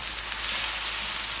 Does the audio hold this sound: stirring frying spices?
yes